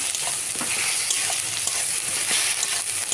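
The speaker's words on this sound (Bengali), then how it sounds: "আদা বাটা দিয়ে একটু নেড়ে নেবো" Ginger paste being stirred as it fries in a pan for a home-style chicken curry, giving a steady, close sizzle with soft scraping strokes throughout and no talking.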